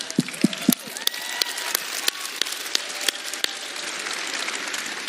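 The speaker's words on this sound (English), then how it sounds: "And I want to applaud all of you for that." Audience applause at a large network marketing profession event, a steady wash of many hands clapping throughout, fairly loud and sustained with no speech over it.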